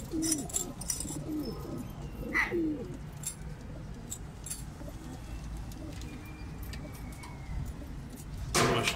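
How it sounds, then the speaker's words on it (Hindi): Pigeons coo softly in a pigeon loft, with a few low, throaty calls early on. Faint chirps and background street noise fill the rest. "मैं आपको रंगीन कबूतर जब तक दिखा रहा हूँ।"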